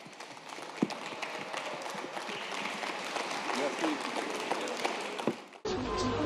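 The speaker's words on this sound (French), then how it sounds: "Je vous demande de l'applaudir." An audience applauds a French Free veteran of 1940 at a ceremony, with steady moderate clapping for about five seconds before it cuts off abruptly into a different, quieter sound.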